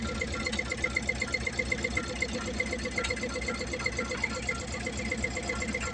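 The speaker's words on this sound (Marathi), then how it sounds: "ऊसाचा ट्रॅक्टर आहे" A tractor hauling sugarcane idles on a road, its engine running in a steady, rapid knocking pulse with a faint whine above, loud and close, with no talk over it.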